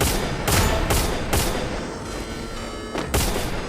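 Gunfire in the Free Fire video game, a series of loud, sharp shots fired in short regular bursts over a dense, noisy background.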